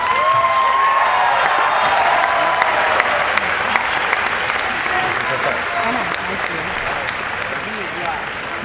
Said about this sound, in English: there are other members of the audience today that also deserve a great round of applause from you